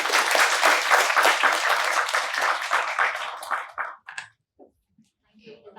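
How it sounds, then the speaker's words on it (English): An audience at a datathon winners announcement event claps in sustained, dense applause for about four seconds before it dies away into near silence, with brief faint voices at the end. "Give a big round of applause."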